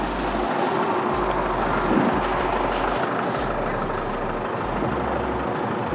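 The seed fan on the back of an IH Cyclo 400 planter runs with a loud, constant broadband roar and low mechanical drone that stays steady throughout.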